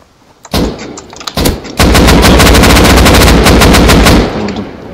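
Rapid automatic gunfire from a video game rattles loud and close, a few short bursts followed by a long sustained stream of shots that cuts off abruptly.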